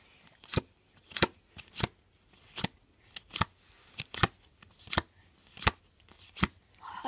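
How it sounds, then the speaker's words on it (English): Playing cards are riffled and snapped in a steady series of sharp, crisp bursts about once a second, close by and without talk. "And one more shuffle might do the job."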